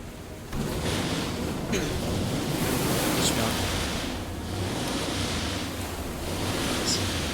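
Ocean waves wash around a small skiff in the video game Limbus Company, a steady broadband surge with soft swells, heard alone with no talking.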